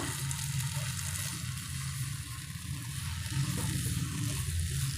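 Carrot halwa with sugar being stirred in a pan, a steady low sizzle of the thick milky mixture continuing throughout, with faint scraping under it and no talk.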